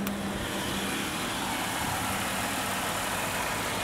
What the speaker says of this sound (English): Let me go ahead and give you a shot of the engine.